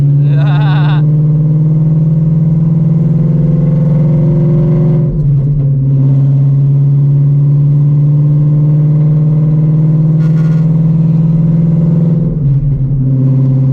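A 950HP Shelby GT350 pulling hard in third gear, a loud, steady engine drone with a deep sustained tone and harmonics, briefly dipping twice as if shifting or lifting, with cabin noise throughout.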